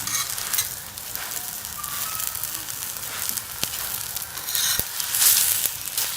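A tomato-stuffed paratha sizzles steadily in a hot pan, a continuous close frying hiss with occasional soft stirring scrapes and pops, heard alone without talk.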